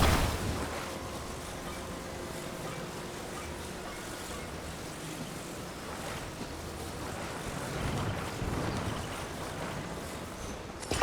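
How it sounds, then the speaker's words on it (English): A makeshift ship smeared with green goo sails across open water in The Legend of Zelda: Tears of the Kingdom, with a steady wash of waves and wind rushing past, broad and continuous, lifting slightly toward the end. "sailing away on our perfect little ship with all this green goo on it"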